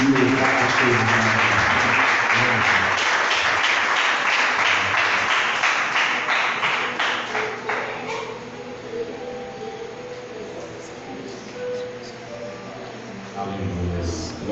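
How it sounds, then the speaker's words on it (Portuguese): Church congregation applauds for Jesus during a sermon, a loud sustained round of clapping and cheering voices that gradually thins and fades, then swells briefly again at the end. "Quem crê, dá uma salva de palmas para Jesus"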